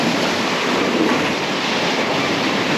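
Ocean waves wash onto a Portuguese beach in a steady, close, unbroken roar of surf, with no voices.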